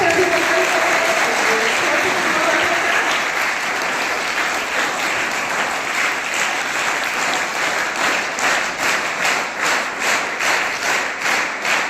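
An audience at a school career fair event breaks into sustained applause to welcome the chief guest. The clapping is dense and loud, and it settles into a more rhythmic pattern toward the end.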